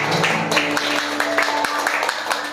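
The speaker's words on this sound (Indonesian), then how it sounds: "tepuk tangan sekali lagi" A church congregation at a Pentecost night service claps together in sustained applause, filling the hall, while faint speech and room sound mingle underneath.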